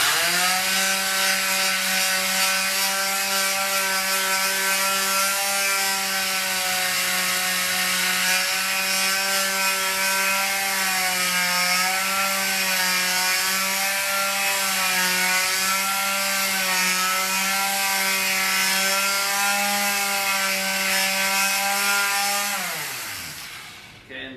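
A powered wet-dry sandpaper machine for metal sands a wet copper intaglio plate with a steady, loud, whining motor drone that holds throughout and then winds down at the very end.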